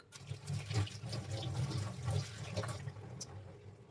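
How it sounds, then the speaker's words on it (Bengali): Raw bananas rinsed under a running kitchen tap, water splashing steadily and fairly loud for the whole stretch, with no talking. "কলাটাকে হচ্ছে আমি ভালো করে জল দিয়ে ধুয়ে নেবো"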